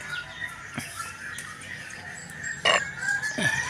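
Chickens cluck and squawk intermittently against a busy outdoor background, with a few sharper calls standing out near the end.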